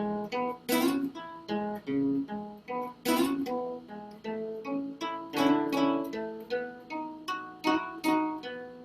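A guitar plays the first four bars of an exercise, a clean, steady run of plucked notes and chord shapes with an even rhythm, close and moderately quiet, alone.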